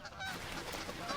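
Ducks honk and quack nearby, a few faint nasal calls over a soft outdoor hiss, with no talk.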